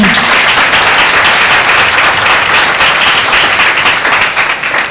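A church congregation at a Sunday meeting bursts into loud, dense applause, a continuous roar of many hands clapping close and strong for the whole stretch.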